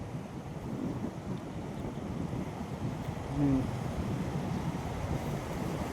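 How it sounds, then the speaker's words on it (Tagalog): Waves striking the corner of a port pier at Roxas Port, a continuous low rumbling wash with wind noise, steady and moderately distant, with a brief murmur from a person. "yung alon ay tumatama dyan sa kantuhan ng pantalan"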